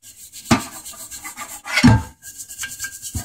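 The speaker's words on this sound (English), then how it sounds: "Especially these edges are a little bit easier to get with a brush." A brush scrubbing toothpaste over the edges of a Wilton 8-inch 1780 vise, heard as rough, rasping rubbing strokes in a few distinct bursts, close and fairly quiet.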